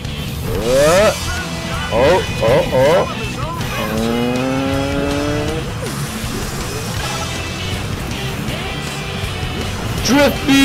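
Karts drift with loud squealing tires and wailing engine tones in Sonic & Sega All-Stars Racing, the screeches rising and falling in bursts, with shouting voices over the racing.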